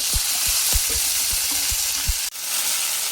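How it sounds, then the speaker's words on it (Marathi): Ground masala paste frying in hot oil for chicken sukka, a steady close sizzle with rhythmic scraping stirs about every half second, ending in a sudden clunk and a brief dip. "आता मसाला चांगला तेलामध्ये छान भाजून घेऊया।"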